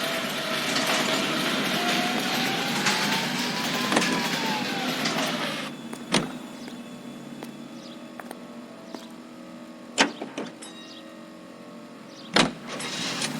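A car drives in the 1940s Los Angeles game L.A. Noire, a steady engine hum with a rising whine that settles into a low drone, broken by a few sharp thuds and clunks.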